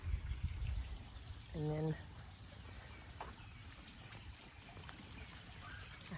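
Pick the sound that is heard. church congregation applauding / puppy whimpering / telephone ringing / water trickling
water trickling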